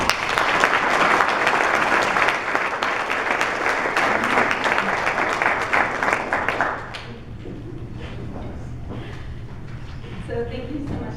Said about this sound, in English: let us give Tara a round of applause for her service with the RPC